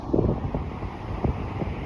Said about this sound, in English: you probably can't hear me very well because it's windy